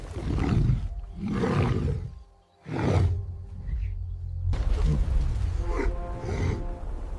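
A lion roars in several loud, deep bursts separated by short pauses, each roar rough and powerful, heard without talking.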